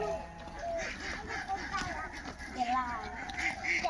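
Ducks kept with cows at a rural Bangladeshi village home quack in repeated short calls at moderate distance, mixed with outdoor background noise and what may be faint voices.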